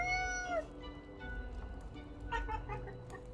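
A cat meows several times within the video game Death and Taxes, a clear rising-and-falling meow at the start followed by softer mews over a low background hum.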